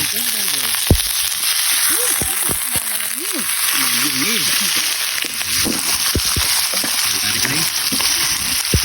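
Steady loud sizzling of chicken tail pieces frying in hot oil, with scattered crackles and pops, while a person speaks faintly underneath.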